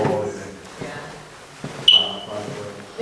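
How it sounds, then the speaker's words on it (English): A smoke detector or fire alarm gives a brief, sharp high chirp about midway, somewhere in a large abandoned building, under low room noise and faint movement. "that noise is a fire alarm somewhere"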